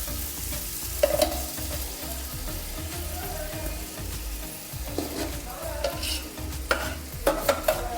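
Chicken frying in oil with green chili paste for palak chicken sizzles steadily while a utensil stirs and scrapes the pan in repeated strokes, close and continuous.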